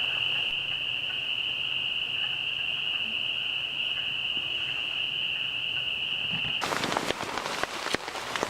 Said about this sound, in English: we're just listening to the peepers